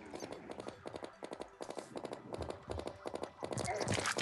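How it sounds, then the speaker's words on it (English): Rapid rhythmic gunfire in Terraria with a hollow clopping quality like horse hooves, steady repeated shots at moderate level under faint game sounds. "my gun sounds like a horse clopping."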